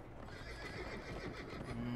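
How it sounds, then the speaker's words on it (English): A horse in the prison-escape video game The Escapists 2 whinnies over a soft, rapid patter of galloping hooves beside a moving train, heard at low volume against a steady rumbling background. "There's a horse."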